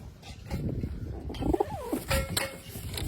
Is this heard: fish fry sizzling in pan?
no